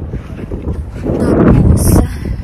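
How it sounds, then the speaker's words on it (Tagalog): Strong gusts buffet the microphone outdoors in a Canadian setting, a loud continuous low roar that swells in the middle and stays steady throughout, with no talking. "Hindi ko alam kung naririnig niyo ko kasi sobrang hangin talaga niya."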